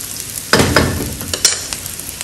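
Chicken browning in a hot pan, a close sizzle that swells as the pieces are stirred and scraped, with a couple of brief clinks and no voices.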